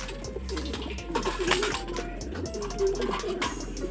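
Racing pigeons coo softly and repeatedly nearby, with low throaty calls overlapping against a rustling loft background and a steady low hum.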